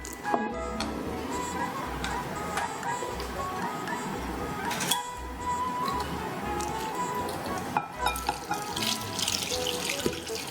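Warm water is poured into a container holding sliced bitter melon, a steady splashing trickle with faint clinks, heard close over about ten seconds.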